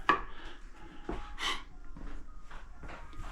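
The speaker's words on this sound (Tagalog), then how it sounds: "Naghihiwa siya ng kabuti." A knife chops through mushrooms on a board for a breakfast omelette, giving a few close, irregular soft cuts and taps with quiet handling noise between them.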